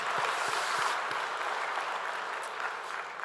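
A congregation at a Korean church's Thanksgiving Sunday service claps together in a sustained wash of applause, fairly loud and even, tapering slightly toward the end.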